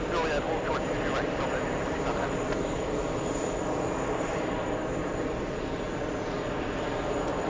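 A Boeing 747 arriving at New York's JFK airport, its engines a steady broad roar heard from a distance and holding even throughout, with someone talking over it.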